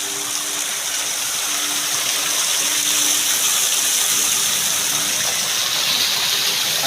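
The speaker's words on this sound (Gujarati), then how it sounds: "પાણી આવી ગયું છે બજારમાં" Rainwater gushes through a flooded market street, a loud, continuous broadband rush close by with no voices heard.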